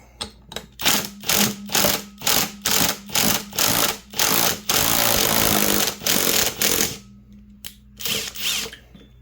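Engine case fasteners on a 1976 Husqvarna 400 motorcycle motor being loosened, a loud, rapid series of rattling mechanical bursts like an impact wrench, repeated in short pulses with brief gaps and a longer run in the middle.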